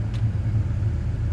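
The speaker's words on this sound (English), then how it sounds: "yes, it has a Corvette sound to it" A Chevrolet Silverado pickup fitted with Corvette exhaust and Spintech mufflers rumbles in a steady deep idle, loud and close, with no voices over it.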